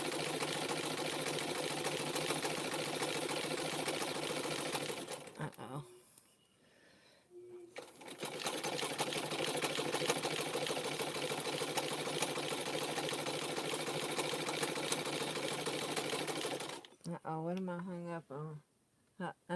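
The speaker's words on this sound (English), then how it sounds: "Don't you just love the sound of an old sewing machine?" A continuous mechanical whirring and rapid clatter of an old sewing machine stitching rope, pausing briefly midway, then stopping as a voice speaks near the end.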